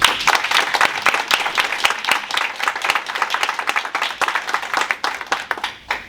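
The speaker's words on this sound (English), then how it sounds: "Please, please give Jasmine a round of applause" A live audience gives Jasmine a round of applause at a Sip and Chat evening, dense hand clapping that stays steady and close for about six seconds before thinning out at the end.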